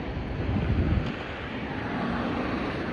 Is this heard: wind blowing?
yes